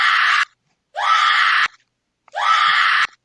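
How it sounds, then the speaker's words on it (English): Three loud, identical sustained screams, each about half a second to three-quarters of a second long, separated by clean silence, sounding like a repeated sound effect on a livestream. "So we're going to give that 3 screams."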